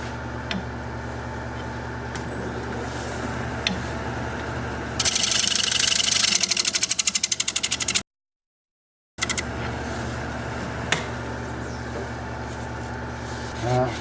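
Rough scraping on a natural live-edge alder bowl spinning on a wood lathe, a steady rubbing hum that swells into a louder rasping burst midway, then a brief dropout before the quieter whir resumes.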